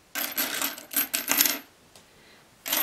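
Metal board-game coins for Viscounts of the West Kingdom pour and clatter in a bright, jingling rush of several bursts, then a short pause before one more clinking spill, with no talk.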